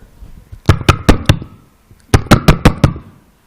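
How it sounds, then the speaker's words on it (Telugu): Knocking on a door in two separate bursts of about four sharp raps each, loud and close, with a short pause between the bursts. "ఒకడొచ్చి తలుపు కొడతాడు."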